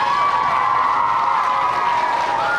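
Dense crowd noise of clapping and cheering fills a school assembly in honor of an absent teacher, a loud, steady wash of applause with children's voices mixed in.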